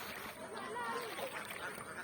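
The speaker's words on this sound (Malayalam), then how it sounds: "താറാവും കൂടാണ് താറാവും കൂടാം" Ducks quack faintly in a short burst over steady background noise by a flooded paddy field after rain, with a voice murmuring nearby.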